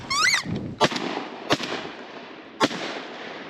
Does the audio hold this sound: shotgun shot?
yes